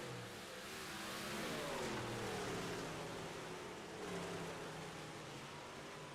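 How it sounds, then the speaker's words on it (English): A 358 modified race car engine eases off the throttle through a corner at a dirt track, a faint distant drone whose pitch sweeps down and then rises again. "You hear Billy Roberts way off of the throttle, babying it around the corner"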